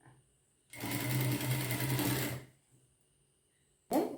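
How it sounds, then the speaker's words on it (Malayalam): A sewing machine runs a fast, steady stitching burst along a folded fabric edge for under two seconds, then stops, followed by a brief second start, close and clear with no talking. "ആദ്യം ഒരു തയ്യൽ പിന്നെ ഇപ്പുറത്തൂടെ ഒരു തയ്യലൂടെ"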